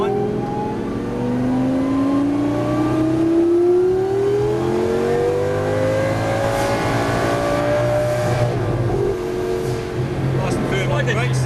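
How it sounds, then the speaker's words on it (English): A Lamborghini Gallardo LP 570-4 Superleggera accelerates from inside the car, its engine note climbing smoothly and steadily under a loud, constant road roar, rising to a higher pitch near the end. "smooth acceleration on the other side till it gets up and goes"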